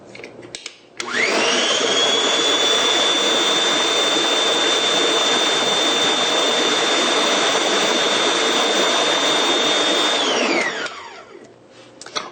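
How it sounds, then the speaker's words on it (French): A blender whirs tofu cream until smooth, starting with a rising whine and holding a loud, steady high-pitched roar for about nine seconds before winding down and stopping. "on va mélanger le tout suffisamment pour obtenir une crème qui est lisse et onctueuse"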